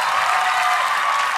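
An audience applauds at a duet singing competition's result show: dense, continuous clapping that fills the room at a steady level, alone without talk.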